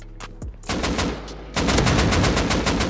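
Gunfire in the game Rust, with automatic rifles such as AKs and an MP5: a few sharp separate shots, then loud, rapid bursts of close machine-gun fire that grow denser and keep hammering to the end.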